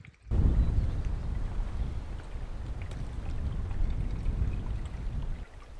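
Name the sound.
water flowing in a desert creek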